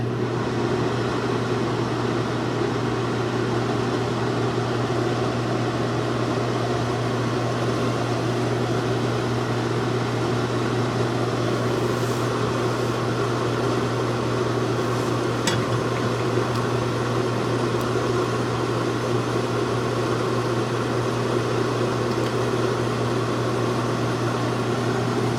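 A KitchenAid Superba dishwasher running its drying phase with the heater on, giving a steady low electrical hum with a faint broadband whir, constant and unbroken throughout.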